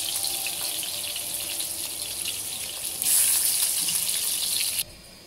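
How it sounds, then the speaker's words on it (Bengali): Taro pieces sizzle as they fry in oil in a pan, a steady bright crackle with no talk, swelling louder toward the end before cutting off suddenly. "দুই পাশে উল্টিয়ে সুন্দর করে ভেজে নেব।"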